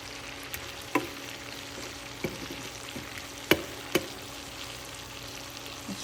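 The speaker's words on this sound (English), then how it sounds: "Let's give it a stir." Ranch-seasoned ground meat burger cups sizzle softly in a pan while a spatula makes a few scattered scrapes and clicks, fairly quiet and close.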